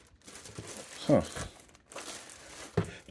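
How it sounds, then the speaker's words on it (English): A plastic bag crinkles in short, close rustling bursts as a hobby tool is unpacked, with a brief spoken exclamation in between. "Comes in this plastic bag"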